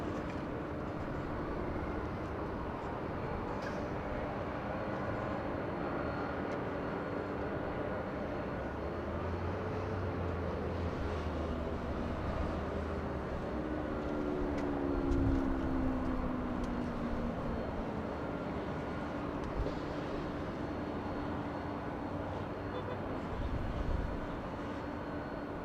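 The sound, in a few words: Boeing Dreamliner airliner in the distance at LAX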